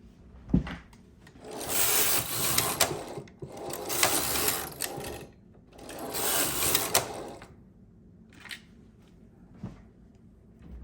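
A knitting machine carriage is pushed across for three rows, three long rasping, whirring sweeps with short pauses and clicks between them, close and fairly loud.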